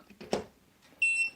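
A brief, high, clear electronic beep sounds from a motor controller board under test on a soldering bench, after a soft clunk and rustle.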